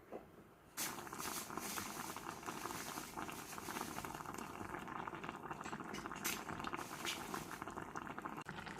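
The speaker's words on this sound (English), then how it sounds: "So we'll just let it boil first." A pot of budae jjigae, Korean army stew with sliced rice cake, bubbling at a boil, a continuous close patter of bubbles and small pops after a quieter start, with no talking.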